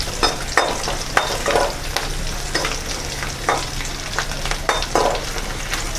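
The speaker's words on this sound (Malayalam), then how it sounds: "വെളുത്തുള്ളി ഇച്ചിരി നല്ലോണം ഒരു ബ്രൗൺ കളർ ആവുന്നത് വരെ നമുക്കൊന്ന് ഇളക്കി കൊടുക്കാം എണ്ണയ്ക്കകത്ത്." Garlic sizzles in hot oil for an irumban puli pickle, a continuous close crackle broken by regular scraping strokes of a spoon stirring the pan.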